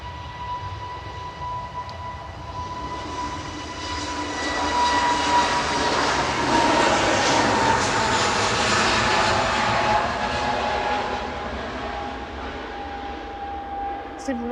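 An easyJet Airbus A320neo jet departs Manchester Airport bound for Barcelona, a broad engine roar swelling to a loud peak mid-pass and then easing while staying fairly strong, with a steady high whine running through it.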